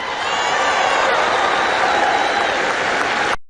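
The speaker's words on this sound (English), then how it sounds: "They're clapping for something that hasn't happened yet" Audience at a Trump speech clapping and cheering, a loud steady burst of applause with a few whoops that stops abruptly at the end.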